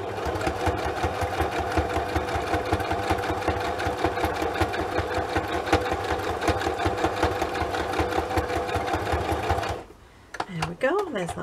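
A sewing machine runs a steady rapid zigzag stitch joining lace to fabric, loud and close with an even mechanical rhythm for most of the clip before stopping abruptly near the end, followed by brief handling noise.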